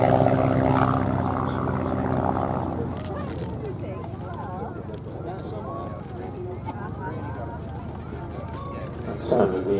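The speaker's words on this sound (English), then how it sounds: "The sound of the engine just drifting away into nothing is just wonderful." De Havilland Chipmunk propeller engine at a military airshow, droning loudly at first then fading into the distance while people talk nearby.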